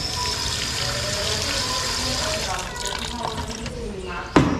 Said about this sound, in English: We add a little water to it here.